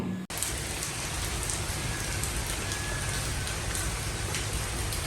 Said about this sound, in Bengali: শীতের দিনে বৃষ্টি কি আর ভালো লাগে কারোর?